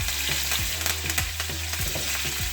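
Shallots and curry leaves frying in a pan for fish moli, giving a steady sizzle with brief stirring scrapes recurring every half second or so, close and fairly loud, with no talking.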